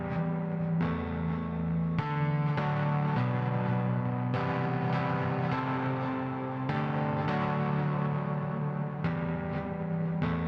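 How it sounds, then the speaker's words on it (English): A UJam virtual guitar strums a simple four-bar chord progression, steady and full with clear chord changes roughly every couple of seconds, playing continuously with no talking. "this is a simple 4-bar chord progression."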